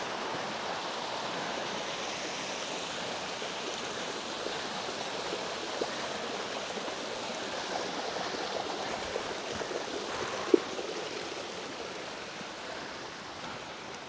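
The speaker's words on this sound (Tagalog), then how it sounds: "Ayun yung lagasan ng tubig" Water spilling from a spring beneath Bancod Bridge on the Saluysoy River in Indang, Cavite, a steady broadband rush that stays close and constant, with a single faint click near the end.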